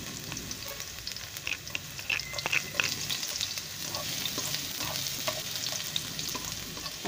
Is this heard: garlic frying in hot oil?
yes